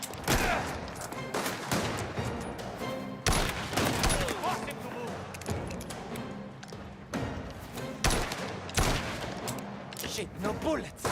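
Gunshots in the video game Mafia: The Old Country, sharp loud bursts fired at irregular intervals, several in quick succession, with someone speaking between some of them.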